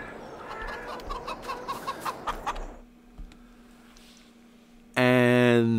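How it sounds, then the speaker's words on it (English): Chickens at a coop in Farming Simulator 22 give a run of rhythmic clucks, then a quieter stretch, and finally a loud rooster crow bursts in at close range. "Let's go to the chicken coop."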